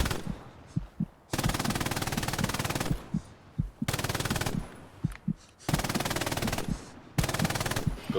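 Bursts of machine gun fire during infantry machine gun training, four long sustained volleys of rapid loud shots separated by short pauses with scattered single reports between them.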